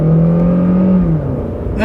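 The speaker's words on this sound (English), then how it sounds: "Engine sounds good, tranny shifts like a dream." Small car engine accelerating through an intersection, a loud, close drone whose pitch climbs steadily and then drops briefly as the transmission shifts before rising again.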